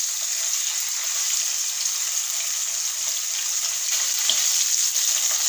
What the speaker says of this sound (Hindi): हमें पनीर को ज़्यादा फ्राई नहीं करना, बस मसाले का कच्चापन हटाना है।